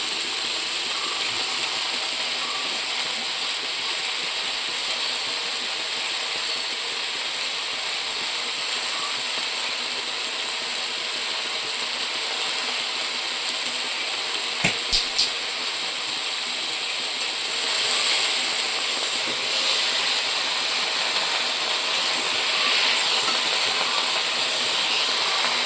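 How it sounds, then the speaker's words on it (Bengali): Pumpkin leaves fry in a pan with a steady, even sizzling hiss that carries on throughout, broken by a few faint clicks from the pan. "প্রথমে শাকগুলো তুলে দিই, শাকগুলো দিয়ে আমি ভাজা করে নিই"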